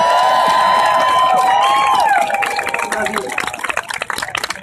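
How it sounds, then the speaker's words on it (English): Loud crowd applause and cheering fill the space, with a brief tonal whistle-like sound early on before the clapping thins into scattered claps. "Can you give her a round of applause"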